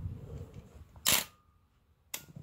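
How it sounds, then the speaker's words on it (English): Two sharp, close clicks from a 1964 Praktica Nova SLR film camera as its shutter fires, about a second apart, with near silence between them. "So, if you see, I will now fire the camera,"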